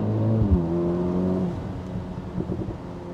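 A 2023 Mercedes-AMG SL43 with its four-cylinder engine pulls hard under launch control, a loud droning engine note heard from inside that drops in pitch midway, then rumbles on unevenly.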